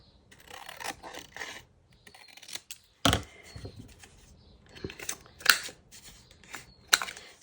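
Scissors cut paper for Christmas junk journal ephemera in short, uneven snips and rustles, close and fairly quiet, with brief pauses between cuts.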